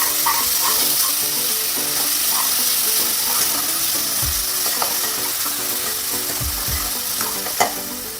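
Browned onions with ginger, garlic and green chili paste sizzle steadily in a pan for dhaba-style kadhi pakoda, with stirring scrapes and light clinks over the constant frying hiss.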